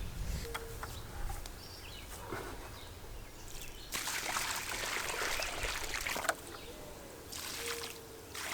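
Water poured from a can into planting holes in a newly dug garden bed, soft trickling splashes in bursts with short gaps, close and fairly quiet.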